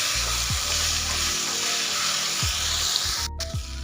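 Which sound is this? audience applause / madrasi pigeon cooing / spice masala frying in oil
spice masala frying in oil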